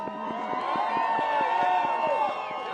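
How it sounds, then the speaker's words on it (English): A crowd at a Ukrainian rally at the Lincoln Memorial applauds and cheers for a wounded soldier, a sustained wash of clapping and raised voices with rhythmic claps standing out, fairly loud and continuous. "round of applause to Alexei"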